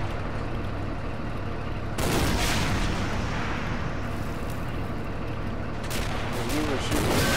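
Gunfire from a tank turret in the video game Men of War Assault Squad 2, heavy booming shots with dense crackling battle noise, two sharp blasts standing out about four seconds apart.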